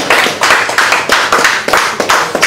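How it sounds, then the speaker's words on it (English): Loud, steady clapping from a crowd, with rhythmic bursts of applause continuing throughout. "you can do better with that round of applause"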